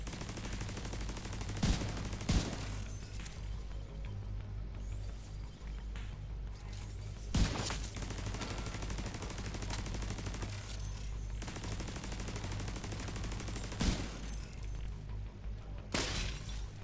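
Gunfire in The Division, heard as sustained rapid bursts with several sharper bangs standing out over a dense, steady wash of game noise, loud and continuous throughout with no talking.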